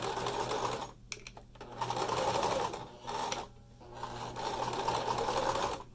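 Sewing machine stitching a fabric face mask: steady close-up whirring runs of needle strokes, interrupted by brief pauses and a few clicks, with the motor starting and stopping several times.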